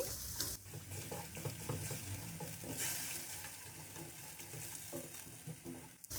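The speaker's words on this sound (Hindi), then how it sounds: "दही डालने के बाद हम इसको बहुत अच्छे से इस तरीके से मिक्स करेंगे" Yogurt is stirred into frying chicken for a white karahi, a continuous bright sizzle with a spoon scraping and mixing around the pan, close and steady, no speech.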